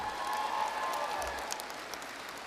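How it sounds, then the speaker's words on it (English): A commencement audience of graduates and guests claps steadily, a continuous crowd applause that slowly thins toward the end. "Give me the claps."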